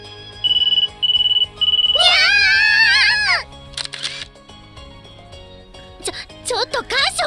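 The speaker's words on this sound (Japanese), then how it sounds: "このタイミングで電話鳴らさないでよ" A phone ringtone in the video game Nekopara starts as a few quick repeated beeps, then swells into a loud warbling melodic ring that cuts off abruptly, followed by brief voice sounds.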